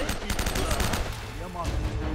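Rapid bursts of gunfire from a firefight in Uncharted: Drake's Fortune Remastered, loud and dense, with overlapping shots throughout the short burst and a voice partly beneath them.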